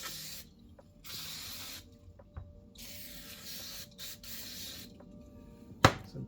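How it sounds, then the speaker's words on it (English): Aerosol cleaner sprayed onto Toyota 3UZ-FE camshaft parts with Kelford 208-B cams, in several steady hissing bursts separated by short pauses, close and fairly quiet, ending with a sharp clack. "I'll give these things a quick little spray down."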